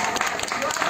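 Audience clapping at a Ramlila stage performance, a short burst of scattered applause under a voice addressing the crowd.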